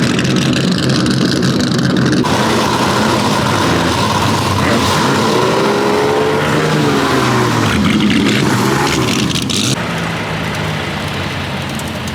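A McLaren F1 LM drives past on a public road during Pebble Beach car week, its engine loud and close with a rising, sweeping note amid crowd noise.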